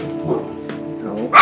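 Two dogs bark and yip indoors, with short rhythmic barks and whimpering whines rising to a sharp loud yelp at the end, close to the microphone.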